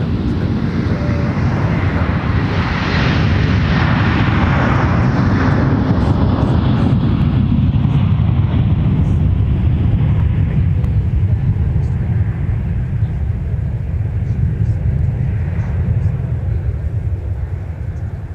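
An airliner takes off at Minneapolis–St. Paul airport, its engines a loud, steady broadband roar close by that slowly eases as it climbs away, with a faint radio voice under it.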